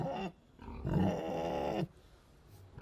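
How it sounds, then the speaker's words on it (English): Pigs grunting in a couple of short bursts, the second longer and throaty, close by and moderately loud with quiet gaps between. "So they make lots of different noises, pigs."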